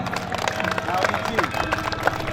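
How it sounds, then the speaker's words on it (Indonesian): A crowd at a ceremony for Bontang's small traders claps loudly and continuously, a dense wash of applause with a voice speaking over it. "Boleh diberi tepuk tangan yang meriah."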